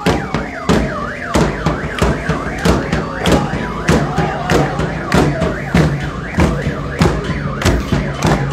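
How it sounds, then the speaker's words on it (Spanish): A siren on a pickup truck leading a street march against insecurity wails in a fast rising and falling pattern, loud and close, over regular sharp bangs or beats and crowd noise. "con la sirena avisando que está pasando"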